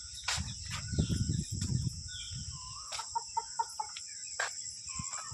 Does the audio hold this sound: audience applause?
no